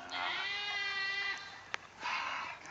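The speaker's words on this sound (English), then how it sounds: "God, that fucking goat." A goat lets out a long, wavering bleat, close and fairly loud, followed by a shorter second cry after a sharp click.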